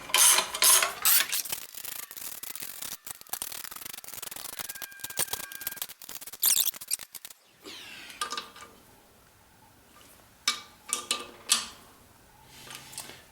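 Bolts being tightened round and round during a clutch installation on a Land Rover Series 1 with a V8, giving close metallic clicks, rubbing and ratchet-like ticks in short bursts with pauses between.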